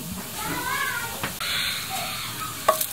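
Onion hits a pan of browned ginger and sizzles steadily, with a spatula scraping and stirring through the hiss and brief clatters near the end.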